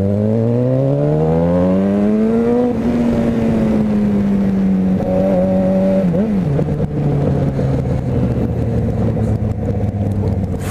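A Yamaha XJ6 motorcycle engine revs up in a loud rising whine, then settles into a steady deep rumble at idle, close and continuous with no talking.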